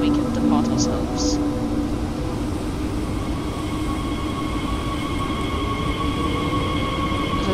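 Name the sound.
train departing in Train Sim World 2 video game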